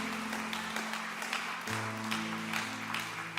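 A church congregation applauds at a Portuguese-language worship service, a dense, steady patter of many hands that fills the room, with sustained keyboard or organ tones droning underneath the whole time.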